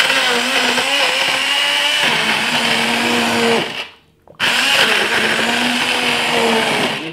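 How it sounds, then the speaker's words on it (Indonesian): Blender pureeing brown bean soup, a loud continuous whirring drone with a wavering motor pitch, cut off for a brief pause partway through before restarting, with no talking. "Pureren itu kita blender ya"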